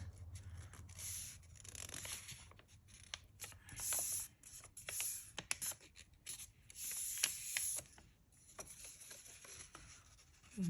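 A sheet of paper is folded in half and creased while making a handmade prayer journal, giving close, soft, irregular rubbing and crinkling sounds with brief crisp scrapes, and no talking.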